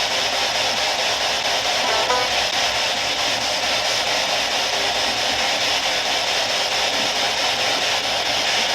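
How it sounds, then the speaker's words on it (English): Spirit box radio scanning produces a steady wash of loud hissing static for about nine seconds, with faint, brief blips as it sweeps, and no voices. "let's go ahead and turn on the spirit box"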